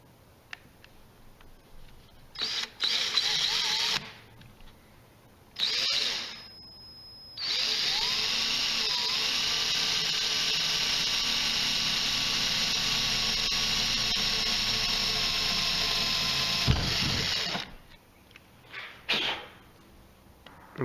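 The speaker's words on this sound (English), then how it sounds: "we got the 4 holes drilled" Power drill boring holes through the steel hood of a 1999–2004 Jeep Grand Cherokee, loud sustained whine rising in bursts with a long steady run, separated by short pauses.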